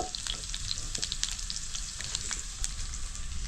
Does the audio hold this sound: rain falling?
no